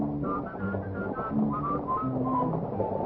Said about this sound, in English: While we're jogging along, we will whistle a song.